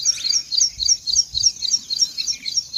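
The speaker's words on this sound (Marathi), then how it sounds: "पक्ष्यांना सुद्धा आनंद होत आहे पाणी पडल्यानंतर, कारण पक्ष्यांना सुद्धा पाणी भेटत नव्हतं." Birds chirping after rainfall, a rapid series of high thin tweets repeating in steady bursts, fairly close and clear with no talking.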